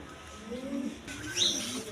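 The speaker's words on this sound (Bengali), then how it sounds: "এখানে আরেক পের রেশার কবুতর আছে দেখেন" Racing pigeons kept for sale coo in a few soft, close, low calls, followed by a brighter chirp.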